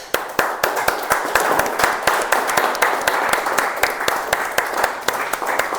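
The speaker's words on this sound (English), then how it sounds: "let's welcome the latecomers of the meeting with a clap." A meeting audience claps steadily to welcome latecomers, a fairly close, continuous patter of many hands with a few sharper individual claps standing out throughout.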